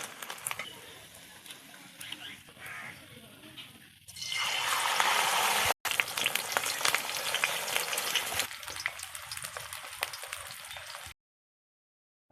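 Malabar spinach leaf fritters deep-frying in hot oil, a steady loud sizzle that swells partway through and carries on without a break, with faint background noise early on and no clear speech.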